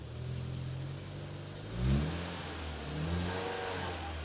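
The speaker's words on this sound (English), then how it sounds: "I give it throttle, nothing really happens." A Citroen C4 VTS engine, held on the clutch in reverse, takes throttle in two short revs that swell and fade over a steady idle; the engine is close and moderately loud, with no one talking.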